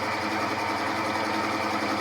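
Lathe cutter cutting into a metal part, a steady even mechanical whir with a fine gritty hiss that holds constant and fairly loud the whole time.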